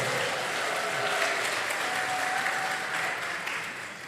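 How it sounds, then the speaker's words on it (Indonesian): An audience at a national Quran quiz final applauds the competing teams, steady sustained clapping from a crowd filling the hall for several seconds before tapering slightly. "Kita beri aplaus untuk regu A,"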